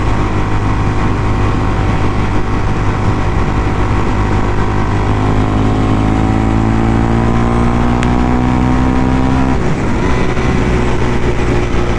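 A Suzuki DRZ400 motorcycle engine drones loudly and steadily while riding, its pitch rising as revs climb, then dropping with a gear change before settling again, with strong wind rumble throughout.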